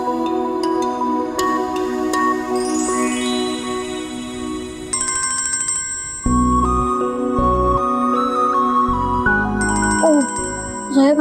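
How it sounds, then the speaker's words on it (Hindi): A phone ringtone plays throughout, a bright repeating electronic melody with chiming tones that carries on steadily and loudly, with no talk over it. "जोया भाभी का फोन आ गया है"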